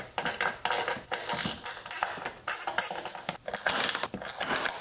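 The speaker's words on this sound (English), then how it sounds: "Grab your 7mm. We now have to undo the bolt back here." Ratchet with a 7mm socket undoing a bolt on a 2008 Chevy Tahoe: a close run of quick metallic clicks in repeated bursts, with light clanking between strokes and no talking.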